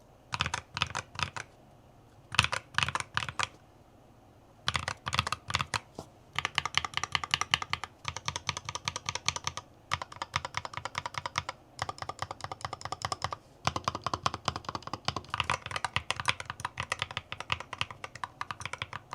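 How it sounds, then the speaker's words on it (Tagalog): A gaming keyboard with magnetic switches is typed on in quick, crisp bursts of clicky keystrokes separated by short pauses, close and clear with no voices. "If you want to hear the sound of this keyboard, listen to this."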